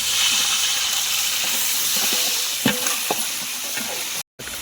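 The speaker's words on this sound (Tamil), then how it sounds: "பிரியாணிக்கு 1 லிட்டர் எண்ணெய் ஊற்றுறோம். பட்டை, கிராம்பு, இலை. அடுத்தது வெங்காயம் போட்டுக்கலாம்." Onions fry in a litre of oil with cinnamon, cloves and bay leaf for a 3 kg chicken biryani. A loud, steady hissing sizzle carries a few utensil clatters and cuts out briefly near the end.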